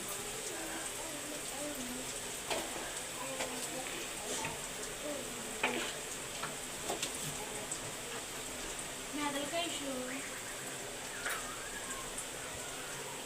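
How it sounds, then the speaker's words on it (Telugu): Chicken fried rice ingredients with chili powder and turmeric sizzle softly in a pan while a utensil stirs with light, scattered scraping taps, and a voice speaks faintly now and then. "కారం వేసుకుని బాగా తిప్పుకుందాం"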